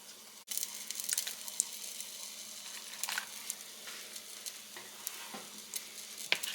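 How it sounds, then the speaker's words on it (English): Sugar, flour, egg and melted butter are stirred together in a bowl, making soft repeated scraping and clinking strokes at close range with a faint steady hiss underneath and no talking. "Just mix that sugar around in there with that flour"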